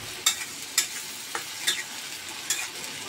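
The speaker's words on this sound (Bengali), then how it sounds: "দেখুন, পেঁয়াজটা নরম করে ভেজে নিচ্ছি।" An onion, ginger and garlic paste fries in a pan with a low sizzle, punctuated by a regular series of sharp spoon scrapes and taps as it is stirred.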